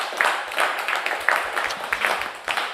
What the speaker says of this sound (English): how about we get one more round of applause for Mandi Strachota